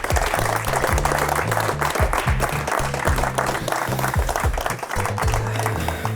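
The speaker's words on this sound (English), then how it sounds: "So a big round of applause for Oxford Global" Crowd applause at a footgolf tournament awards ceremony, steady clapping from many people mixed with background music, carrying on without a break.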